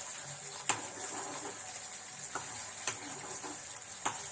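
Grated coconut fries in a nonstick pan as coconut oil separates out, making a soft continuous sizzle with several sharp clicks and taps of stirring scattered through it. Nobody talks.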